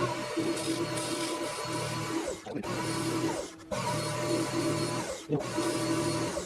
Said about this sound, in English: get the ball rolling by facing this off and boring it out